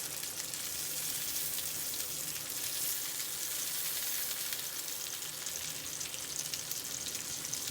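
Eggs sizzle on a hot griddle among onions, a loud, dense, continuous frying hiss with fine crackle that holds steady throughout.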